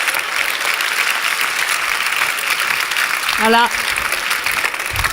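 A lecture audience applauding a speaker, a steady mass of clapping throughout under a brief spoken word from a presenter.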